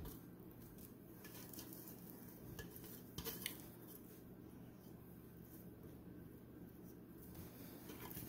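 A spatula scrapes a sticky, chewy Eat-More square mixture out of a mixing bowl and into a baking pan, giving a faint, steady scraping and squishing sound with soft clinks of utensil against dish and no talk.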